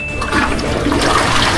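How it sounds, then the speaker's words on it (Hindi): A toilet flushes close by, a steady rushing gush of water that fills the whole short moment without any voices. "फ्लश।"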